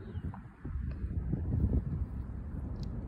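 Wind gusts over an open outdoor spot beside dandelion puffballs, a low, rough rumble that swells and buffets the microphone, fairly faint and continuous with no voices.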